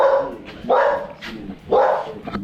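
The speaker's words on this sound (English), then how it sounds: "Dog, you're ruining my audio." A dog on a farm in Namibia gives three loud, close barks, roughly one per second, with small yips in between and some faint rustling behind.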